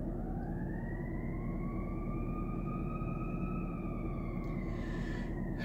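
A siren rises and falls in one long slow wail during a drill, loud over a heavy rumbling engine, with a brief extra burst near the end.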